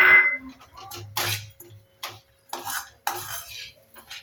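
A spoon scrapes and clinks as almonds are mixed into a sticky sweet date mixture in a pan, with several short separate strokes at close range and quiet gaps between them.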